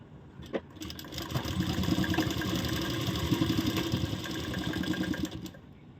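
A sewing machine stitching a seam in fabric, running steadily for several seconds with a dense mechanical whir and rapid needle rhythm, close and fairly loud, starting and stopping at the edges.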